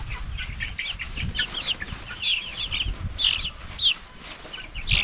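Silkie and Rhode Island Red cross-breed chickens cluck in a backyard, a run of repeated close clucks and soft squawks over faint low background noise.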